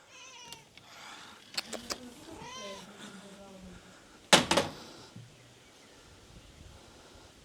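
A cat on a trip toward the seaside gives a few short meows near the start, followed by a loud sharp burst of noise and quieter rustling, with a person speaking nearby.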